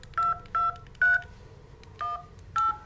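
Five short electronic keypad beeps from an LG V60 phone in its hidden test menu, evenly spaced tones with a brief pause before the last two, clear against a quiet background.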